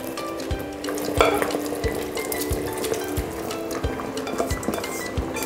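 Steady sizzling in a pot of beef stroganoff with vegetables, with regular scraping taps of a spoon stirring through the food, close and continuous.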